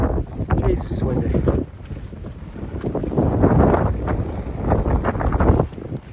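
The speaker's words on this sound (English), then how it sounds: "it's windy." Strong gusting wind buffeting the microphone on an exposed trail climbing to Clingmans Dome in the Smokies, a loud continuous roar rising and falling, with a voice speaking briefly over it.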